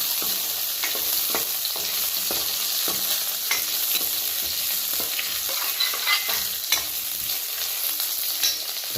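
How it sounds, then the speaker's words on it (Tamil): Steady crackling sizzle of cumin and black pepper frying in hot oil for Chettinad fish curry, with occasional sharp pops and stirring scrapes, close and continuous without any talking. "சீரகத்தை பொரிட்டோம்."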